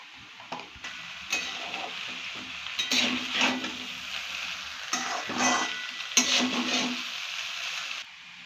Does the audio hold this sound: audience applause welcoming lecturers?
no